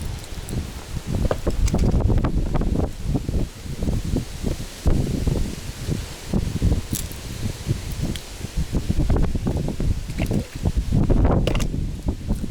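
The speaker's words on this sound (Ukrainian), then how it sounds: "а вітер просто шалений" Strong gusting wind buffets the microphone in rough, uneven bursts on a boat on the Psel River in autumn, with rustling mixed in and no talking.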